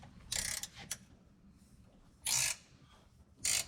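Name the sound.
wrench tightening seat riser bolt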